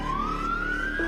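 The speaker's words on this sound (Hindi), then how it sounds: "एम्बुलेंस का सायरन।" An ambulance siren wails steadily, a rising electronic tone sweeping upward over a low engine drone, loud and close with no voices.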